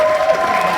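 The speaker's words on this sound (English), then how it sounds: "So let's give them one more round of applause." Brief burst of audience applause and cheering at a puppet slam, loud and close, mixed with crowd voices and lasting under a second.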